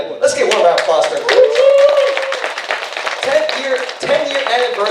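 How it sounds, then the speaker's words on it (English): Audience at a seminar clapping in a sustained round of applause, dense and fairly loud, with a voice carrying over it. "Let's get one round of applause for him."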